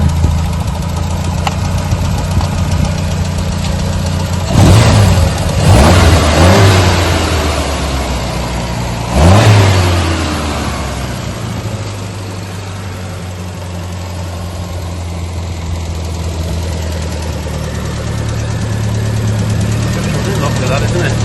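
A 1979 MG Midget sports car engine runs with its oil filler cap removed, idling steadily up close and broken by a few sharp, loud revs that quickly settle back to idle.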